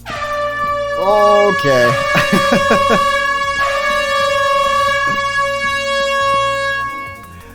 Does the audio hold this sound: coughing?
no